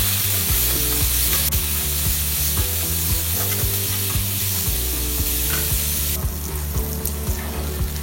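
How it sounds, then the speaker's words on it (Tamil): Onions, tomatoes and curry leaves sizzle steadily in a hot pan for a brinjal and drumstick kuzhambu, with a spoon clattering against the pan in a rhythmic stirring pattern. "கருவேப்பிலையும் ஒரு தக்காளியும் சேர்த்துட்டு அதையும் நல்லா வதக்கிக்கலாம்"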